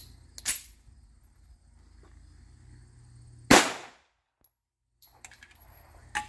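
A Girsan 1911C .45 ACP pistol fires steel-cased rounds: one loud, sharp report early, a second stronger shot near the middle with a quick decaying tail, then quiet with faint clicks and handling noise.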